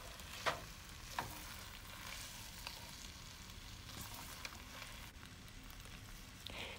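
Diced potatoes mixed in a pan with ham, a soft, steady sizzle with faint scraping stirs and a couple of light knocks, quiet and close.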